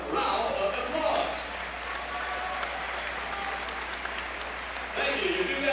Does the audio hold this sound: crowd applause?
yes